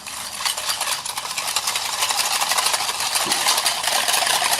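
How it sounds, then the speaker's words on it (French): A whisk beating egg yolk and sugar very fast in a bowl for crème anglaise: a continuous, close, rhythmic scraping swish with no talk over it. "avec un fouet, je vais donc fouetter très rapidement"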